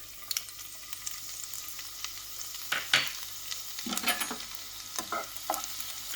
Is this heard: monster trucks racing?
no